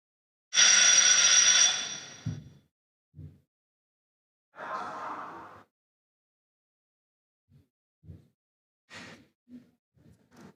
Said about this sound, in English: I guess that was the bell for the bonus.